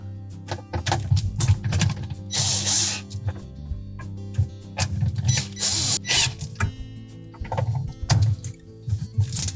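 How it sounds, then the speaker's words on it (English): A ratchet tightens screws on the drain cover of a Whirlpool dishwasher, giving irregular rapid clicking and short scraping bursts up close, with brief pauses as it moves between screws. "Tighten these screws alternately to make sure that we don't get any of them in there crooked."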